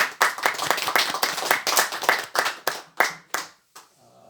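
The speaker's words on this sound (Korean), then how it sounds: "우리다 같이 이 귀한 행사를 위해서 하나님께 영광의 박수를 올리겠습니다" A church congregation claps together during a thanksgiving service for a centre opening, a steady run of sharp, rhythmic claps that thins out into a few final separate claps before stopping.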